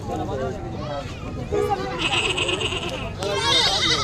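Goats bleat at Kamakhya temple in Guwahati, Assam, where goats are kept for sacrifice; several loud, wavering bleats come close by, one after another, over a busy background of crowd chatter.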